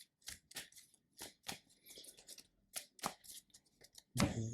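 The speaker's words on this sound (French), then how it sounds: "on fait la même chose pour le deck rencontre, on le coupe aussi après" A deck of game cards for Marvel Champions is shuffled and cut at close range, giving a run of short, crisp riffling bursts with small gaps between them and a louder, denser flutter at the end, with no talking.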